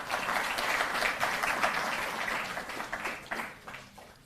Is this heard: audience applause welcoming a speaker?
yes